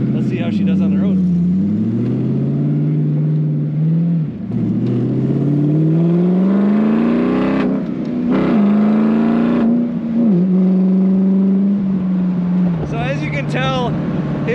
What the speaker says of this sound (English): Tell it is effortless acceleration.